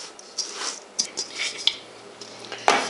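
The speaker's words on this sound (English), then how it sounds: "Mix it up really well until all the oats are coated." Oats being stirred with melted honey and ghee in a bowl for homemade cereal, giving soft sticky scraping and squishing with a few light clinks of a utensil against the dish, close and fairly quiet.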